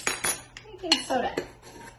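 All-purpose flour and baking soda tossed together in a bowl, a few quick clinks and scrapes of a utensil against the bowl, close and brief, no talk.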